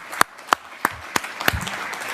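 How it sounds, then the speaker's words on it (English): Applause at a senior sports awards ceremony, heard as five sharp, evenly spaced claps with quiet room tone between them rather than a full crowd ovation. "let's just give a big round of applause to Sean."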